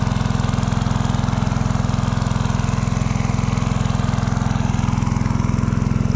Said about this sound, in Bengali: এটা থেকে আরিয়া মেশিনটা আপনার নিজের মেশিন